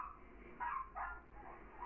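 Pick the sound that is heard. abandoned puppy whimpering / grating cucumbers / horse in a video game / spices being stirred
abandoned puppy whimpering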